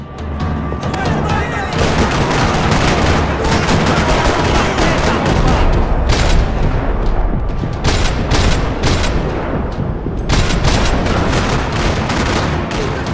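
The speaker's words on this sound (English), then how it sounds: "Another parking lot rattling with gunfire." Sustained gunfire rattles through a parking lot in the video game Max Payne 3, with dense bursts of automatic and single shots and booms forming a loud, continuous barrage for the whole stretch.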